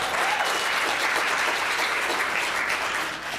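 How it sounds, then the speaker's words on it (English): Sustained, dense applause from a large audience at a disability council candidate forum, steady and loud throughout with no voices breaking through. "So give yourself a round of applause."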